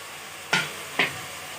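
Chicken pulao masala with green chillies and garam masala being stirred and fried in a pan, two short scraping sizzles of the spoon about half a second apart, close and fairly quiet.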